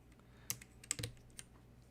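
A handful of sharp, clacky keystrokes on a mechanical keyboard, part of a commissioned Matrix Navi build, land unevenly over about two seconds, close and fairly quiet, with nobody speaking.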